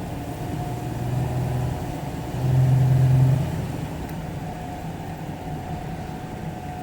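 A Ford Granada 3.0 GL automatic cruises in top gear, a steady low engine drone and road rumble filling the cabin, swelling briefly louder for a second before settling back to an even hum.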